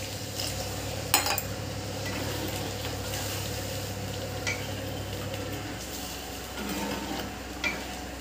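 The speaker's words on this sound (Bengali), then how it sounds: "এবার আমি একটু জল দিয়ে দেবো।" Water poured into a pan of frying rajma (kidney bean) curry, a steady loud sizzling hiss that settles into a softer bubbling, with a few utensil clinks up close.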